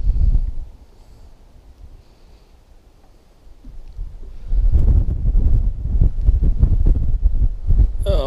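Wind gusts buffet the microphone on a Wisconsin flowage during crappie fishing, starting strong, easing into a quieter lull, then rising again into loud, rumbling bursts near the open water.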